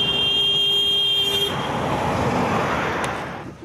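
Cars passing a roadside volunteer barricade in Ukraine's Dnipropetrovsk region sound a sustained horn blast that cuts off after about a second and a half, leaving the rush of nearby traffic.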